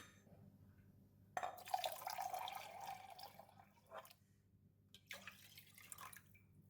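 Gula Melaka syrup water poured into a pot while making a coconut grass jelly dessert, a steady close splashing stream that starts abruptly and runs for several seconds, then trails off into a few drips.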